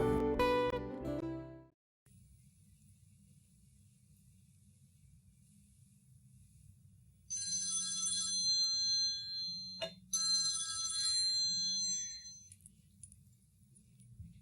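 A telephone rings with bursts of bright electronic tones, preceded by a short loud musical passage and a quiet stretch, then a click and a second ringing burst before it stops.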